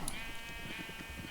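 Sheep bleating in the video game Minecraft, with a sustained, steady bleat running through the whole clip over a faint farm background.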